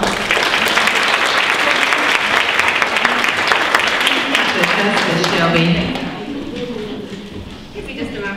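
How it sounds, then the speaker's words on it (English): Warm audience applause welcoming the MC at a teapot fashion show, dense sustained clapping that fades after about six seconds as a voice begins speaking over the tail. "let's give her a warm round of applause"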